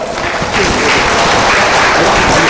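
Loud, dense applause from an audience at a speech event, steady clapping that swells slightly after the first half second and continues throughout.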